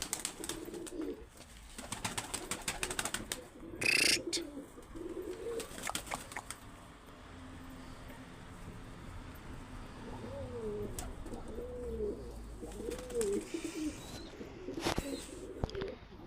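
Pigeons coo in soft, throaty bursts, close by, with some flapping and rustling noises in between.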